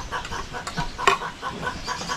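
Chickens clucking close by, several short throaty calls repeating in an uneven rhythm with a brief louder squawk near the middle, no voices over them.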